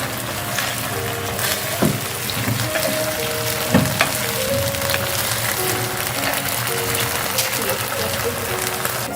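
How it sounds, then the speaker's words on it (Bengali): Tomato sauce hits hot oil over fried chopped onion and garlic, and a dense, steady sizzle with crackling spatters keeps going close by. A voice talks over it. "সস তেলে দেওয়ার জন্য এখানে ছিটাছিটি শুরু হয়ে গেছে"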